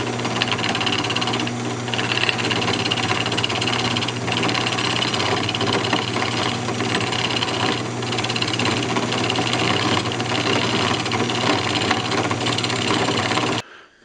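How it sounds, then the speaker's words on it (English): A wood lathe spins a Christmas ornament blank while a roughing gouge trues it up, giving a continuous loud droning hum with a rough cutting texture that holds steady for about thirteen seconds before stopping abruptly. "once it sets up, we're just going to true it up. Just using a roughing gouge."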